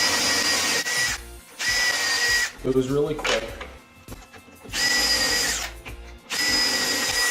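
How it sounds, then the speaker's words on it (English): A drill with a sharp 3/16 inch bit bores angled pilot holes through a drawer box, with four short, loud whirring bursts separated by pauses and a brief spoken remark in the middle. "drills a pilot hole at an angle through the box"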